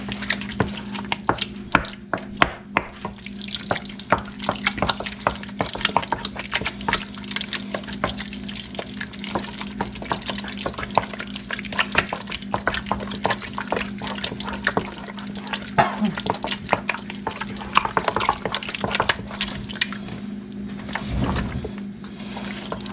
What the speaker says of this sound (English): just going to stir this together here.